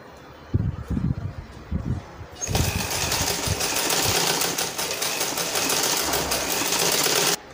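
An electric sewing machine stitches the sleeve of a tulle baby ball dress, starting after a few soft handling knocks and then running in a steady, close, continuous whirring buzz until it stops.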